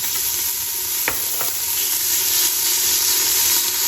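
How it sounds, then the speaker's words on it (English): Bacon frying in a pot to render its fat, giving a steady close sizzle and hiss throughout, with a couple of brief stirring clicks early on. "You want to render the fat off of this bacon."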